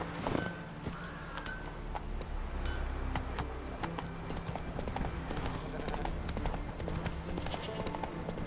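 Hoofbeats of a galloping horse in The Witcher 3: Wild Hunt, a steady rapid clip-clop over game ambience and music with a voice talking over it, the galloping continuing throughout.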